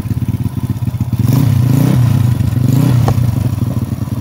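A motorcycle engine, running on its CDI alone without a voltage regulator, idles close by with a pulsing, uneven rhythm, rising into a brief rev before settling back, with some rattling clatter.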